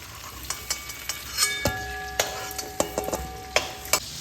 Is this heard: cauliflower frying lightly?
yes